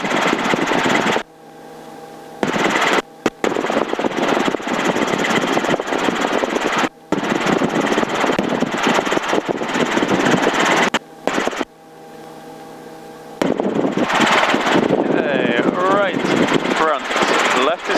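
A helicopter engine and rotor drone steadily in flight, heard from inside the cabin with a constant mechanical hum, while someone talks over it throughout and the sound is briefly cut away several times.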